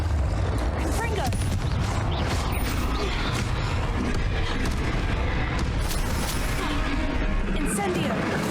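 A Confringo blasting spell explodes in Hogwarts Legacy during a troll fight, with booming, crackling blasts buried in a dense, loud wash of combat noise and music, with a voice shouting over it.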